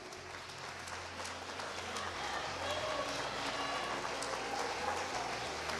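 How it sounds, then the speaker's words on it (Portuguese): Congregation at a church service applauding after the pastor's call, a broad continuous patter of many hands that swells slightly partway through, with some background voices mixed in. "Aplauda o Senhor, pode aplaudir"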